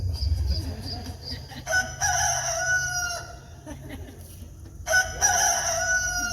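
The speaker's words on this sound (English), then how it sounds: "Hey, play the rooster again, please." A recorded rooster crow played back loudly and clearly, twice in succession, with a faint background hum between the calls.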